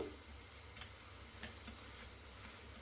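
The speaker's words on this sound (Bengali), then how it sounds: "ভালো করে নাড়িয়ে দিচ্ছি নাড়িয়ে এটাকে ভালো করে ভেজে নেব" Chopped onion fries in a pan for Mumbai-style pav bhaji, a steady soft sizzle broken by a few faint scraping stirs across the whole stretch.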